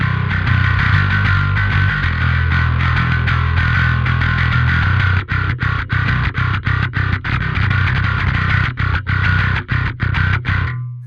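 Headless bass guitar played with compression and drive, giving a distorted, clanky tone; steady loud riffing that breaks into choppy, staccato muted notes with brief gaps in the second half.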